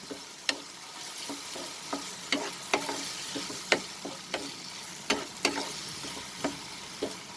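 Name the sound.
chicken stir fry sautéing in a pan with soy sauce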